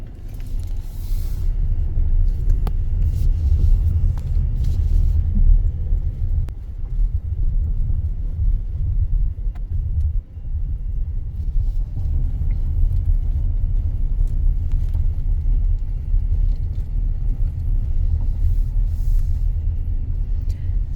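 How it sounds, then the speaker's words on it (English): Steady low road rumble of a car driving along, continuous and fairly loud inside the cabin, with a cat riding along as a passenger; no talk over it. "See, it's not such a bad car ride."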